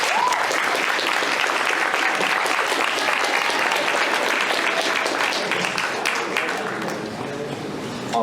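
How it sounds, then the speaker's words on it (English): A crowd at a university student debate claps loudly and steadily for the debaters, a dense wash of applause that tapers slightly toward the end, with some voices mixed in. "Round of applause for our debaters."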